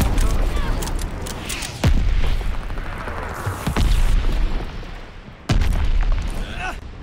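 Friendly mortar strikes explode in Call of Duty Vanguard, three heavy booms landing a couple of seconds apart over constant battlefield noise, with voices calling out between the blasts.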